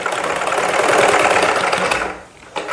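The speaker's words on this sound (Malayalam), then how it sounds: "നമുക്ക് ഇതൊന്ന് തയ്ച്ചെടുക്കാം." Sewing machine running steadily as it stitches a frill into fabric, a dense continuous whirring hum that eases off near the end before a brief restart, close and alone without talk.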